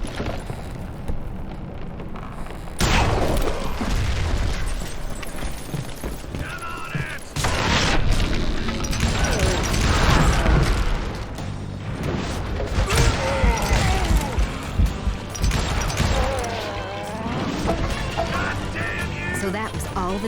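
A gunshot snaps a rope and a wooden footbridge crashes down in the Western shooter Call of Juarez Gunslinger, heard as loud abrupt bangs and crashing clatter amid dense game noise, with a narrator's voice talking over it.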